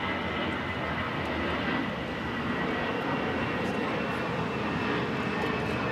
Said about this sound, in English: This is Delta Airlines 2568 taking off to San Antonio on the A319